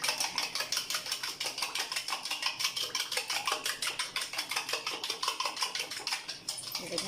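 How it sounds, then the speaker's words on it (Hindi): A whisk clatters rapidly against a bowl while beating egg, sugar and milk together, giving a fast, even run of metallic clicks that stays close and fairly loud throughout. "इसमें मैंने 1 अंडा डाल दिया और 4 चम्मच चीनी ऐड कर दूंगी मैं इसमें। देखिए, अब हम इसको मिक्स करेंगे।"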